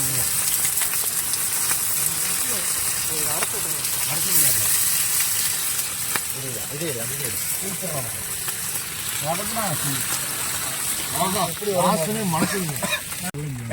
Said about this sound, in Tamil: இப்போ மீன் இறக்க போகிறோம். உள்ள எண்ணெய் சூடாயிருச்சு.